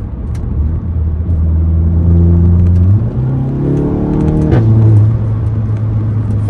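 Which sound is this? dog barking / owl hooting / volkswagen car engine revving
volkswagen car engine revving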